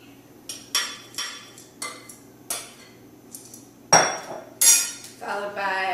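Cut apple pieces dropped into a bowl, giving a series of separate soft knocks and clinks at a steady pace, with a louder clatter of pieces landing near the end, all close by and with no talk.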